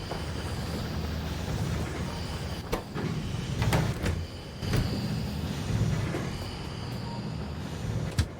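Train running in the factory-building game Factorio, a low rumbling roll under sharp clacks and clunks at irregular intervals, moderately quiet and steady throughout, with no voices.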